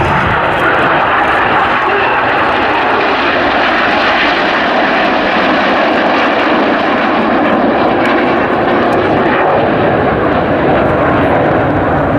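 Red Arrows display team jets roar overhead in a corkscrew manoeuvre at the Cosford airshow, a loud continuous broadband engine rush sustained throughout with no break.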